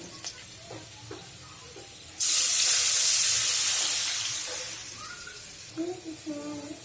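Spices hit a hot pan as cooking starts, bursting into a loud, bright sizzle that gradually fades over several seconds, with soft clinks and a voice speaking before and after.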